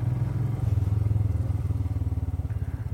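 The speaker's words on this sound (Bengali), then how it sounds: "আগে বাইকটা পার্ক করে নিই।" A motorcycle engine idles and putters with a steady, close pulsing throb as the bike is parked at a village viewpoint in Ladakh.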